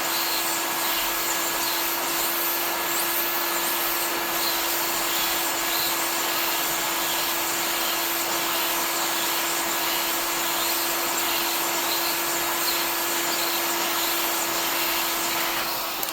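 A heat source, likely a heat gun, warms a bearing race for a Stihl FC75/FS66 trimmer, producing a steady loud blowing whir with a constant whine that runs unbroken throughout and has no voices.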